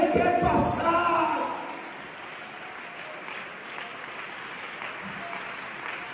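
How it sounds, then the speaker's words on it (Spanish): Church congregation applauding at a camp service, a loud burst of clapping at the start that soon fades to a faint, sparse patter with murmuring voices underneath. "ese aplauso está un poco débil"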